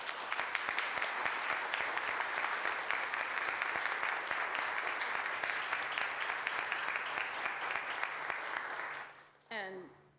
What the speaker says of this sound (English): I would like everyone to thank and give a round of applause to